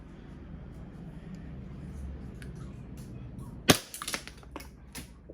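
A gas-powered Glock 19 Gen5 airsoft pistol fires one sharp, loud crack near the mic, followed by a few fainter clicks and taps as it's handled, after a stretch of low background hum.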